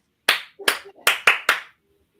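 Five sharp hand claps in an uneven rhythm, given as a clap during a May music session, close and fairly loud with a little murmur between them.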